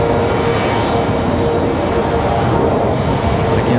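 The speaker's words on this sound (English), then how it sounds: "This one coming in from Dallas Fort Worth, American Airlines 2361." An American Airlines A321 airliner arriving from Dallas Fort Worth at Raleigh Durham International roars past, a dense, loud, steady jet rumble filling the whole stretch.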